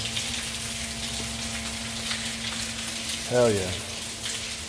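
A sump pump clearing an air lock runs steadily, pumping water out of a sump in a continuous hissing, gushing wash; a man briefly exclaims near the end over the constant flow.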